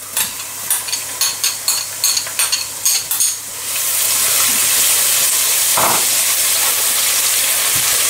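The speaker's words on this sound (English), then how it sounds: "Now that the onions are going golden brown, we're going to add in the ginger garlic paste." Onions frying golden brown with ginger garlic paste just added: about three and a half seconds of quick, rhythmic spoon taps and scrapes against the pan, then a loud, steady sizzle hissing on its own.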